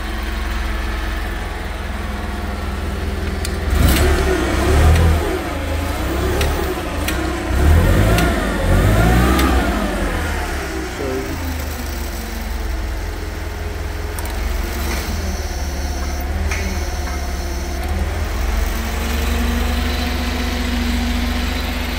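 A 1998 Daewoo Doosan 5000 lb forklift with solid pneumatic tires cranks and starts, revs hard several times, then settles into a steady, close idle.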